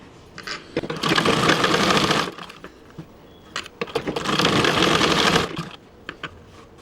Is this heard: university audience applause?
no